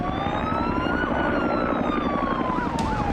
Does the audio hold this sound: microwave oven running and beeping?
no